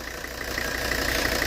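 A classic Mercedes engine idles with a steady, even rumble and faint mechanical ticking, close and continuous, with no talking.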